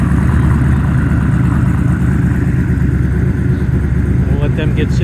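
A big-tire collector car's engine runs at a steady, loud, throbbing rumble through the whole clip, nearby in an indoor hall, with faint background voices.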